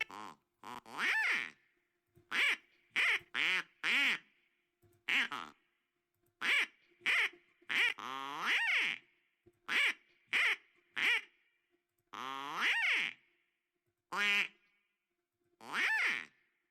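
A voice imitates a duck, producing about a dozen separate nasal quacks in an uneven rhythm with short silences between them, close and clear, some drawn out longer than others.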